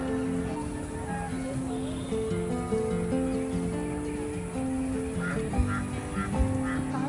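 Geese and ducks honk and quack in a wetland eco park in Porur, Chennai, after rain, with overlapping bird calls running steadily throughout against a busy ambient background.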